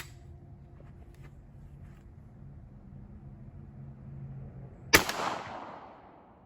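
A single loud rifle shot fired with HSM Cowboy Action ammunition cracks out near the end, following a stretch of low background rumble, with a brief decaying echo after the blast.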